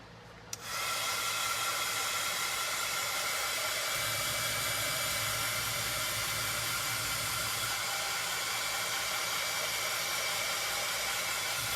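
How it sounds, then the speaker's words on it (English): A handheld heat tool switches on with a sudden rush of loud, steady blowing air, drying glue on a craft fall pumpkin, and keeps roaring evenly close by. "I'm going to grab my heat tool again, and I'm going to dry this guy all up."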